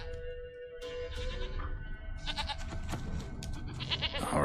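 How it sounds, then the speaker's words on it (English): A goat named Princess bleats in The Witcher 3, several wavering, nasal calls one after another over a quiet game ambience. "Here, goat. Here, princess."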